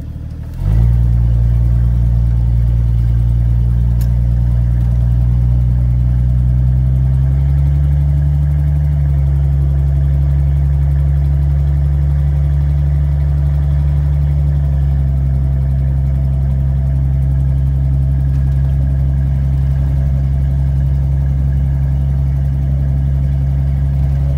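A 1982 Ford F150 pickup cold-starts and settles into a steady, loud, close-up idle, with a slight drop in pitch after several seconds and no talking over it.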